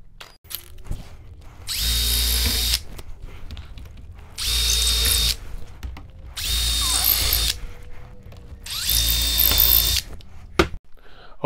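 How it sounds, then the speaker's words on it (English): Power drill pre-drills through a wood block into a beam in four separate bursts of a few seconds each, with quiet gaps and small handling clatter between runs. "we're going to pre-drill through the wood block and partially into the beam."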